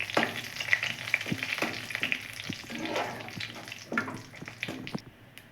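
Cumin seeds and a dried red chilli crackle and sizzle in hot oil as a tempering for palak paneer, with close, uneven pops and the scrape of a spoon stirring the pan, and no talking.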